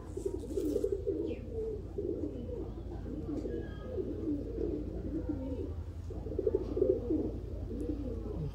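Old Sialkoti rooftop pigeons coo continuously in low, throaty, rolling phrases at close range, the steady calls overlapping one another over a faint background murmur.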